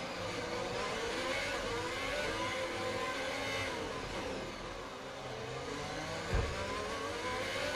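An F1 car accelerates during a rain-soaked qualifying session at Singapore in the F1 2020 video game, its engine droning steadily and filling the whole stretch at an even level, with one brief thump near the end.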